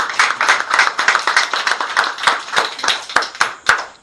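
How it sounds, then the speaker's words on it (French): A church congregation claps in praise of the Lord, crisp hand claps falling in a steady, even rhythm of about three per second, close and lively, with no talking over them. "Applaudissons pour le Seigneur."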